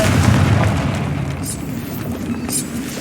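A Confringo fire spell goes off in Hogwarts Legacy, giving a loud, dense burst with a low rumble that carries through the whole moment. Fainter pops and cracks sit on top of it.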